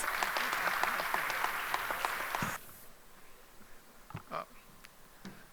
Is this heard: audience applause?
yes